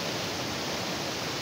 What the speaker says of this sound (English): I've got to my final waterfall,